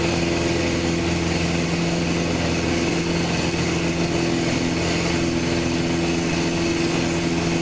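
Cubcrafters Sport Cub light aircraft engine at steady climb power, a loud continuous droning hum from inside the cockpit with no change in pitch throughout.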